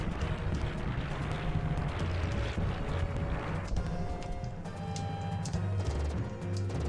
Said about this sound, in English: And I actually have to count the explosions.